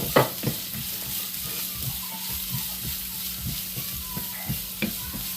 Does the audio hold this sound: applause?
no